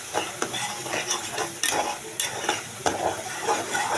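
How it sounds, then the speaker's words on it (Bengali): Fish spice mix with salt and ginger paste sautéing in a pan, an even sizzle broken by repeated scraping and clacking stirs of the utensil against the pan, no talking. "এখন আমি এগুলা একসাথে মিশিয়ে দিই। আমি ভালো করে এটাকে কষাবো।"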